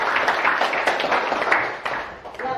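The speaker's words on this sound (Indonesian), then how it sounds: "Tepuk tangan buat." A classroom group applauding after a student's answer, steady mixed clapping from many hands that thins out near the end.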